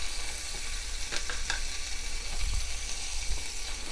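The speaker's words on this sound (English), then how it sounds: "I'm just going to give it a soft little cook in the pan here." Ham pieces, already cooked, browning gently in a pan with a steady soft sizzle throughout and a few faint clinks of a utensil near the middle, no voices.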